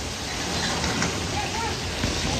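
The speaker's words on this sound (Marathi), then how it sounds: "पाऊस काय थांबायला मागत नाहीये. आता खूपच मुसळधार झालाय." Heavy downpour with strong wind, a dense, steady hiss of rain close around that never lets up, with a few faint knocks within it.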